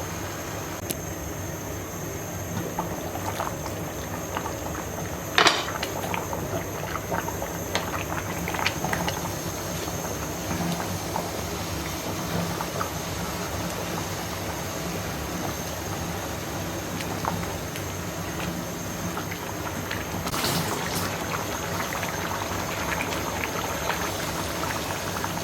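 A covered pot of chicken biryani coming to a boil, a steady low bubbling and simmering hiss that runs continuously, fairly quiet and close, with no voices.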